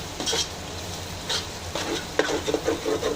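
A spoon scrapes and stirs onion-garlic masala and red chili powder in a pan for chicken biryani, with a few separate scraping strokes and a light sizzle underneath, close up and with no voices.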